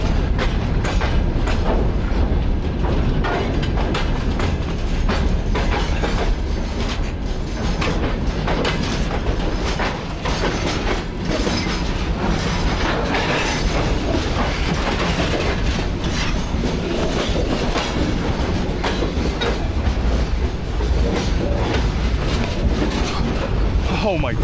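A train rolls past close by in Kazakhstan, its wheels clattering rhythmically along the rails in a loud, continuous rumble.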